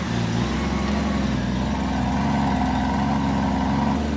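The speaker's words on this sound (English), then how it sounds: "Let it idle a little bit, then turn it off." A 1989 Honda Goldwing motorcycle engine idles steadily after an oil change, a continuous low, even rumble held at constant loudness throughout with no speech.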